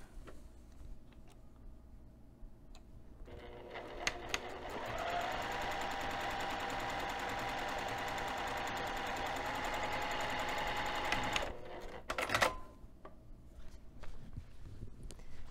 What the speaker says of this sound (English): I'm gonna take this over to the sewing machine and I'm gonna sew directly on top of the line.